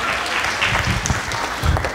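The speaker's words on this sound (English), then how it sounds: "Clap it up for Roots and Rhythm." An audience at a school Black History Month assembly applauds loudly, dense clapping with some crowd cheering throughout.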